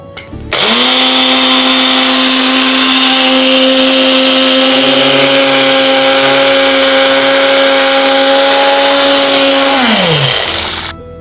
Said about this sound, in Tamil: இதெல்லாம் சேர்த்து அரைச்சிடணும்